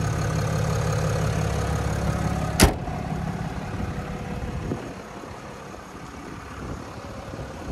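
A 2024 Ram 2500 Limited Night Edition Mega Cab's 6.7-liter Cummins turbo diesel idles with a close, steady low rumble, broken once by a sharp click or thump before settling back into the even idle.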